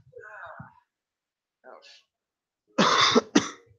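A person coughs several times: a couple of soft, muffled coughs, then two sharp, loud hacking coughs close by near the end.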